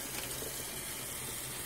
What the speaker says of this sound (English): it's always good to rinse off your meat